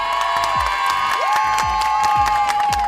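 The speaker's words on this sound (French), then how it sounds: "il va falloir applaudir un petit peu plus fort" A crowd at a live show in Lyon cheers and shouts over loud music with a thumping beat, excited voices and some clapping throughout.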